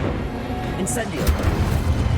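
The Incendio fire spell cast in Hogwarts Legacy, a whooshing burst of flame with a low, rumbling roar lasting a couple of seconds, with a voice speaking over it.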